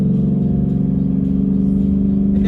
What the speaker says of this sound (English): a naturally aspirated Coyote engine. Kind of like the one you're listening to right now.